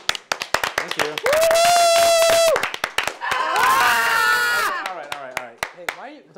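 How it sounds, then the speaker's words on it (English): Gameshow audience clapping in scattered, uneven bursts, with loud whoops and cheers rising over the claps in the middle; people shout and talk amid the noise. "Guys, we talked about clapping."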